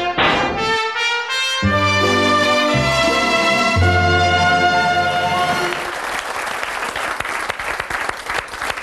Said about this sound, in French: J'ai applaudi un peu en retard